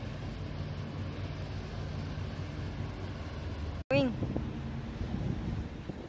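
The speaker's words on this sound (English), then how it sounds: "I'm sitting in the right direction so I get some wind in my mouth." Wind rushes across the microphone in a steady low roar through most of the stretch on a warm day outdoors in Poland, with a short dropout near the middle and a brief whistle-like sweep right after.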